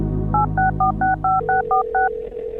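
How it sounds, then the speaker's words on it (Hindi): A telephone being dialed sounds nine crisp touch-tone beeps in quick, even succession, loud and close over a low background hum that fades as the dialing ends. "मालकाला फोन लावत होतो."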